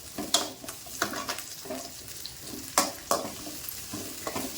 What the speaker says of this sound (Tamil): ரெண்டு பச்சை மிளகா இப்போ அதை இதை நல்லா வதக்கி விடலாம்